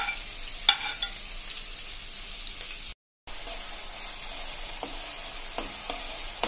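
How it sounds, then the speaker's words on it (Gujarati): Ginger, garlic and green chili paste sautéing in hot oil in a pan, a soft continuous sizzle with occasional light stirring scrapes, fairly quiet and without speech. "હવે એમાં આપણે આદુ, લસણ અને મરચાની આ જે પેસ્ટને પણ જે ક્રમ્બલ કર્યું છે એ નાખી દઈએ, અને સરખી રીતે આપણે સાંતળવાનું છે"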